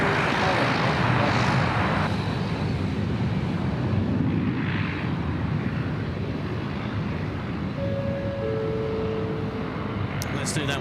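Aircraft engine noise at Sydney Airport, a broad steady roar holding throughout at moderate loudness, with brief faint tones near the end and no talk over it.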